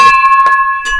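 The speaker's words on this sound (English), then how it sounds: "We break bells over here." A metal bell thrown hard and breaking gives a ringing clang with a sharp crash partway through, followed by another brief impact, loud and close.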